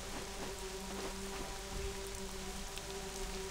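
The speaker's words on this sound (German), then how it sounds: "Jetzt regnet es auch noch, ernsthaft?" Steady rain patters on a surface in the video game Black Desert Online, a dense continuous hiss with scattered drops and a faint low hum beneath, no voices.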